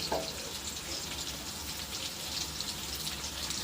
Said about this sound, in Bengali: তো এই যে বড়াটা আমি ভেজে নিচ্ছি এখন